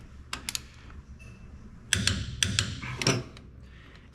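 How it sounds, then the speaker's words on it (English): A wrench tightening half-inch bolts on an Allis Chalmers road grader, giving short metallic clicks and ratcheting taps in irregular bursts, close by, with quieter gaps between. "We're gonna do the bigger 1/2 inch bolts now to 95, starting in the center,"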